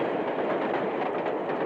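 A running steam train gives a continuous broad rumble and rattle, steady and fairly loud throughout with no talk.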